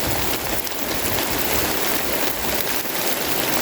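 A dense, unbroken roar of heavy rain hammering down nearby, loud and constant throughout with no voices.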